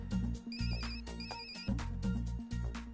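A telephone ringtone plays during a scene in a Pakistani Punjabi comedy film, a loud repeating electronic melody with no talking over it.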